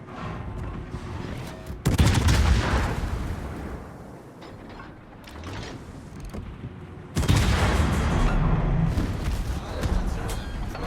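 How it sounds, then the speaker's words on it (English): Naval gunfire in World of Warships, with heavy booming salvos from battleships, one near 2 seconds and another near 7 seconds, each followed by a long rumbling decay over constant engine and sea noise. "But I'm now taking fire from the other side of the map."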